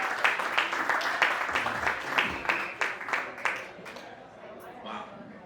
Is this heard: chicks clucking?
no